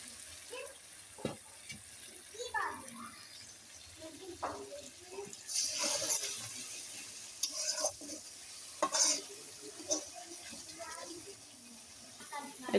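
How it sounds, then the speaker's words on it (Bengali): Spice paste with a little water sizzles gently in a pot on a clay stove, broken by intermittent scraping stirs and occasional louder bubbling. A voice can be heard faintly in places. "এই তো মশলাটা এখন আমি ভালো করে কষে নেব।"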